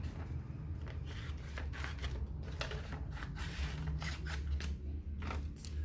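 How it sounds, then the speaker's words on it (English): Scissors cut through paper circles in a series of soft, crisp snips, close and steady with faint rustling of paper between strokes. "we're going to cut each one of these circles by, remember, grabbing your scissors like this"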